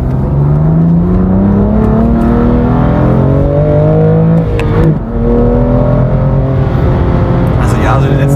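A 2019 BMW M2 Competition engine revs loudly and continuously, its pitch climbing steadily through the range, dipping briefly near the middle, then rising again under a voice speaking over it.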